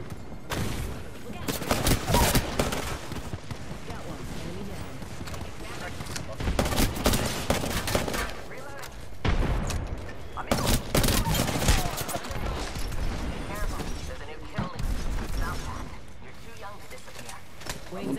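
Bursts of Apex Legends gunfire crackle in dense, repeated volleys through a busy firefight, loud and close at times, with players talking over the shooting throughout.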